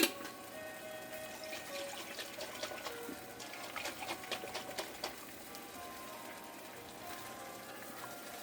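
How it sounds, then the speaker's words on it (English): Water poured into a pot of sauce for a lobster pasta dish makes a faint, steady liquid pour with a few light clinks from the pot, heard alone without talking. "Going to add some water to this to get everything out."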